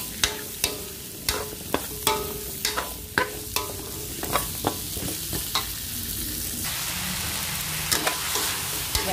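Squash pieces sizzling in a pan for pinakbet while being stirred, with repeated sharp scrapes and clacks of a spatula against the pan over a steady frying hiss, no talk.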